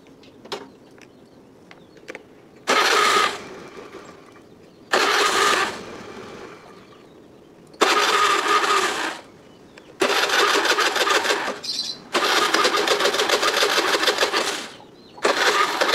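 A fuel-injected Honda Beat scooter engine cranks in repeated bursts of a few seconds each, separated by quiet pauses, sputtering but never catching and running.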